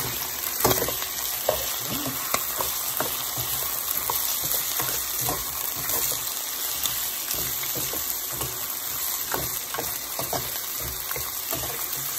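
Ampalaya con carne, bitter gourd with beef, sizzles in a pan while it is stirred, with scraping strokes and spatula knocks recurring over a constant close-up frying hiss.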